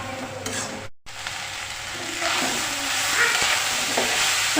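Coconut filling mixed with fresh jaggery is stirred in a pan, a steady scraping and soft sizzle running throughout, with a brief silent break near the start and the stirring growing slightly louder afterward.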